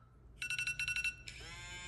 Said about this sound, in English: Shut that off! Silence your phone!